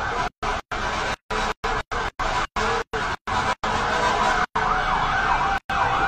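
Fire truck sirens wail steadily in heavy traffic at a fire in the Parola Compound, Tondo, Manila, loud and close with a rising-falling pattern, chopped by repeated abrupt dropouts, alongside road vehicle noise and no talk.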